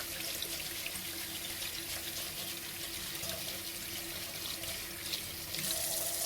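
Running tap water splashes steadily into a sink for several seconds as a sweet potato's skin is scrubbed, close and continuous, with no voices.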